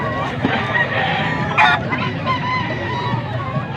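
A white pip bull stag gamefowl crows amid a busy bird yard in Pampanga, its call rising briefly over a steady backdrop of other crowing and clucking roosters, fairly close and loud.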